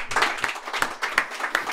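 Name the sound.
applause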